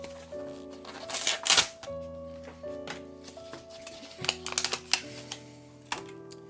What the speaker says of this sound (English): It's wrapped in this plastic.